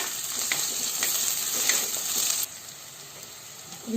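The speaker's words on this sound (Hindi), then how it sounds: "अब इनमें रख देवे हम ताज़ा कूटल से आधी लहसुन 1 चम्मच बड़ा चम्मच से रख के कनी देर में सब भूज लेवे" Freshly crushed garlic sizzles in hot oil in a pan for a jackfruit curry, giving a steady close hiss with light clicks of stirring, and the sizzle drops sharply partway through.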